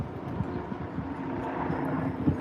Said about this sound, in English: Hang on, we got a chopper here.